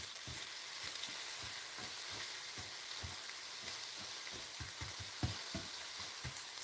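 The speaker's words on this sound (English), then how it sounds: "Now we're gonna saute." Sautéing in a pan for L.A. street style hot dogs, a constant sizzle broken by soft rhythmic stirring thumps, close and without talk.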